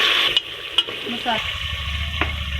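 Masala for a cabbage and meat curry fries and sizzles in a pan, with a couple of sharp stirring scrapes over the steady close hiss.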